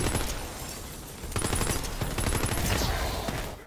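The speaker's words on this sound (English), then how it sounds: "Just keep shooting." Dense, continuous gunfire from a Tiny Tina's Wonderlands battle, rapid overlapping shots and bursts running loud throughout, with a brief dip before the barrage swells again.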